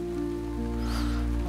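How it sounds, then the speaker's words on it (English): Rain drips tap on a kitchen window and pelt a roof light, a steady close patter over a low constant hum. "Behind, the metallic tap of drips hitting the kitchen window."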